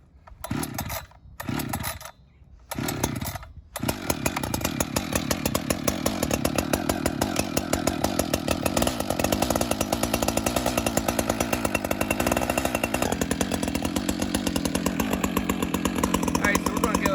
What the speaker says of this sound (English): we're going to go ahead and give this saw a good warm up